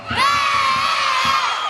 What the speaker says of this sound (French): Les enfants criez!